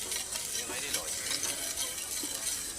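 Mint butter and cream whisked together in a pan, a continuous bright scraping and light sizzling texture with no pauses.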